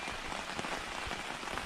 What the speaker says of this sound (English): this is the first rain I've had in this tent so far